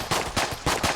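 Rapid gunfire in the video game Enter the Gungeon, three or four sharp close shots in quick even succession, with no voices.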